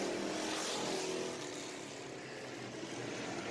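Race cars roar past on the oval at Deep South Speedway, a broad sustained engine drone that swells loud at first, then eases slightly before building again, heard from the grandstand distance.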